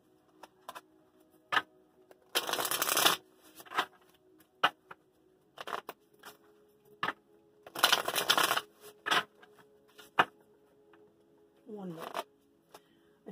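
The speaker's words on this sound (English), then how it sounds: "Three more shuffles for Aries," Two bursts of tarot cards being shuffled, each riffle lasting under a second, separated by light clicks and table handling noises.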